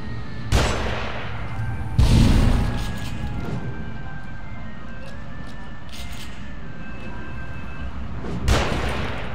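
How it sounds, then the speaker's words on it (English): Three loud gunshots ring out in the survival horror video game The Evil Within, spaced several seconds apart, each with a sharp crack and a reverberant tail. "someone's shooting at me"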